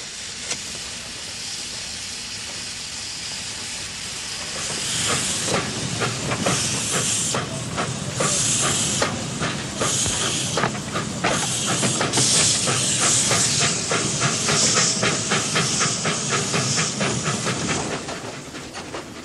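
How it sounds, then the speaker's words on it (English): A small steam train on an old, slow Polish railway in 1982 puffs along with rhythmic chuffs and loud hissing steam, growing louder as it passes, wheels clattering over the rails. "this frail little railway, with tracks so old it can't go faster than 20 miles an hour"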